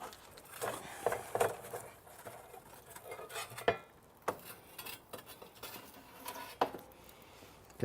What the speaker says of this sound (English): bring our fire, all these beautiful coals that have been in there warming up all day, bring them all back to the front of the oven